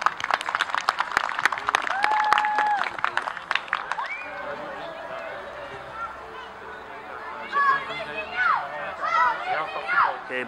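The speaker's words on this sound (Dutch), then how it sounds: "Een hartelijk applaus voor de finalisten." A crowd breaks into enthusiastic clapping and cheering for youth football tournament finalists, with whoops and voices mixed in, fading slightly then swelling again.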